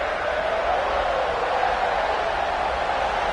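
Steady crowd roar at a college football game, KML against Vanderbilt, as fans push the defense on fourth down; a dense, continuous wash of voices holds at an even level throughout.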